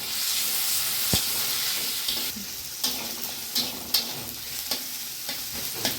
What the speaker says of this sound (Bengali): এই যে পেঁয়াজটা একটু হালকা ভেজে নিলাম